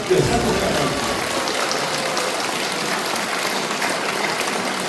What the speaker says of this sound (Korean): 이렇게 인연을 맺어주신 우리 형제들을 위해서 뜨거운 박수 부탁드립니다.